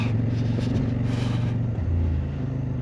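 CFMOTO 800MT-X motorcycle engine running steadily up close, with brief dips in pitch as the quick shifter snaps through gears smoothly, then the drone pulling on.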